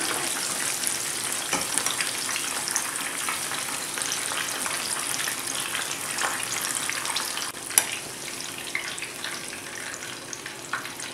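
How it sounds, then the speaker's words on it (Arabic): Sliced pumpkin, not dredged in flour, frying in hot oil with a steady, close crackling sizzle that runs throughout, with a few sharper pops and spatters, no voices. "القرع تقلي هكايا تكون القليه نتاعو"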